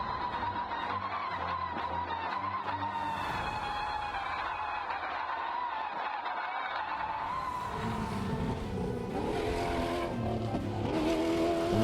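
A J-Rally car drives flat out on a desert special stage of the Morocco Desert Challenge 2023. The engine roars loudly up and down through the gears, tires scrabble and skid, and the noise swells toward the end.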